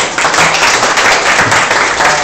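An audience at a poker club's general assembly applauds a tournament winner, loud close clapping that stays full and continuous from start to finish.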